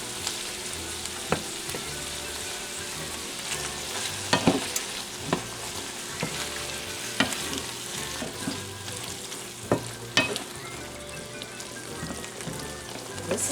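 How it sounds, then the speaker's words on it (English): An 8-ounce block of cream cheese stirred into a hot hamburger mixture in a pan, with a steady low sizzle broken by scattered scraping and tapping knocks of the utensil, close and without talking. "We're just gonna mix this until the cream cheese melts in."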